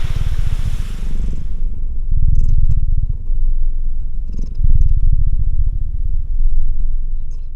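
A loud, close cat purr that rumbles steadily, swelling and easing with each breath, with a few faint higher sounds in the background.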